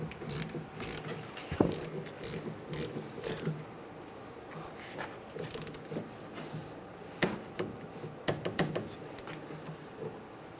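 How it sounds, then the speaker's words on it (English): A ratchet wrench clicks in short bursts while snugging and torquing bolts down to 25 foot-pounds, backed up by a 17mm wrench; the close, intermittent ratcheting comes in several separate runs over a quiet background. "We're going to snug these up, torque these bolts down to 25 foot-pounds."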